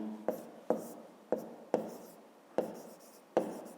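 A pen writing numbers by hand on paper during a fifth-grade maths exercise: six short, close scratchy strokes, each starting with a sharp tap and fading, at a steady pace with no talking.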